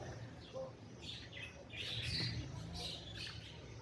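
A Latino double-factor lovebird pair in a pet breeder's setting in Islamabad gives faint, scattered chirps and harsh little squawks in short bursts, with no voices.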